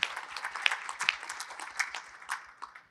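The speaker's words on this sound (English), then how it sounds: "Join me and let us give Mr. Antonioli a warm applause." Scattered applause from a conference audience welcoming a presenter at a panel on Asian carbon trading markets, moderate and fairly sparse with individual claps standing out.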